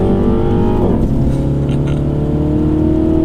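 A 2019 Mini John Cooper Works Hardtop's exhaust roars loud and close, a deep throbbing engine note that drops in pitch and keeps rumbling steadily.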